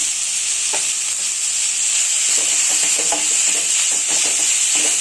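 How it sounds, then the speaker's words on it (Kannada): Grated coconut frying in a pan for a country-style chicken sambar, a constant close sizzle with light scraping taps of the stirring spoon throughout. "ಇದನ್ನು ಚೆನ್ನಾಗಿ ಗೋಲ್ಡನ್ ಕಲರ್ ಬರೋವರೆಗೂ ನಾವು ಸ್ಮೆಲ್ ಗಮ್ ಅನ್ನೋ ಸ್ಮೆಲ್ ಬರುತ್ತೆ ಅಲ್ಲಿವರೆಗೂ ಫ್ರೈ ಮಾಡ್ಕೊಳ್ಳೋಣ"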